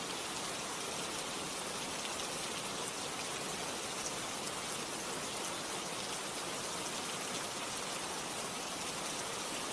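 Steady, dense rain falls without a break, a loud, even hiss of drops on surfaces with no voices.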